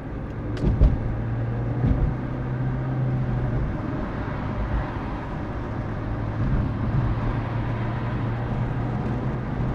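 A car on the road gives a steady engine drone with a broad rumble and low hum, heard from inside a vehicle, with a few brief knocks early on and no talk.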